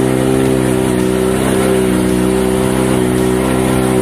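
A Kawasaki ZX25R motorcycle fitted with a ProSpeed Viper carbon exhaust idles close by, a loud, steady, busy engine drone with a smooth continuous tone throughout.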